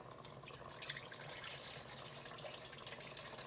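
Chicken stock poured into a gumbo pot, a steady watery splashing stream running unbroken and fairly close for a few seconds, with no talk over it.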